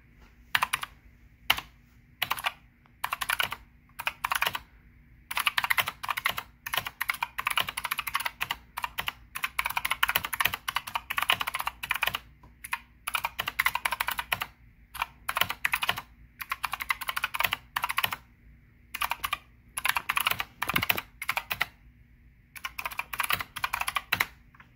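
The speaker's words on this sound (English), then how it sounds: "So that's the keyboard." Someone types steadily on a Dierya DK618 60% mechanical keyboard, a close, crisp clatter of rapid keystrokes in bursts broken by short pauses, with no talking.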